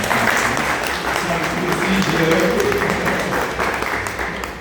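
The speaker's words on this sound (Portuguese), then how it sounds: "Quero que todo mundo dê uma salva de palmas para a minha mamãe." Audience applause at a talk on body, mind and spirit, a sustained dense wash of clapping from a crowd filling the room, steady throughout with faint voices underneath, easing slightly near the end.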